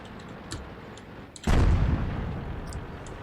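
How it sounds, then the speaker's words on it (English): Enemy artillery fire in World of Tanks: a sudden heavy boom lands midway, followed by a sustained low rumble that slowly fades, over quieter battle ambience with faint distant pops. "There's their artillery still trying to get shots off on me"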